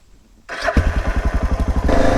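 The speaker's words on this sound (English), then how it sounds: "cool thing about Jesse's Africa Twin is it's a DCT." A Honda Africa Twin DCT motorcycle engine starts up close and loud, then settles into a steady, throbbing idle with evenly pulsing beats.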